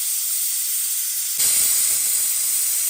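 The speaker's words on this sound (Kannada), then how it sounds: "ಇದಿವಾಗ ಕ್ಲೀನಾಗಿ ವಿಷಲ್ ಬರಲಿ." A pressure cooker cooking parboiled rice porridge vents steam in a loud, steady hiss that suddenly gets stronger and fuller partway through and then holds.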